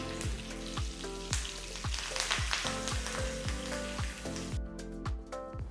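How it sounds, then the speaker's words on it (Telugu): Mustard seeds, cumin and red chillies crackle in hot oil in a small pan, popping in a steady stream of sharp, close snaps over a continuous sizzle, with no voices. "ఆవాలు చిడపట్లాడుతున్నాయి"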